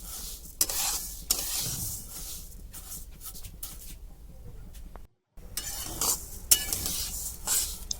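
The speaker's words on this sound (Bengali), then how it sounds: "গ্যাসটা কিন্তু স্লো করে ভাজতে হবে।" Gobindobhog rice being fried in ghee over a low gas flame as a spoon stirs and scrapes the pan, heard as close scraping strokes over a gentle sizzle, with a brief silent gap near the middle and no speech.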